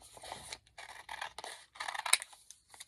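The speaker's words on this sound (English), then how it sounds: "So I can cut this smaller. I'm going to do that right now. Just with some scissors." Scissors snip through a paper page in several quick bursts of crisp cutting and scraping, close and fairly quiet, with short pauses between the cuts.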